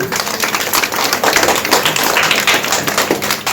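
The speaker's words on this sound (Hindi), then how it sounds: "सभी ताली बजाइए" Dense, loud applause from a crowd at a village religious gathering for the Nine Goddesses in Natwa, Chauri Chaura, a steady wash of many hands clapping without pause.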